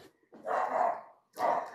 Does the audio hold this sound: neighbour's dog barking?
yes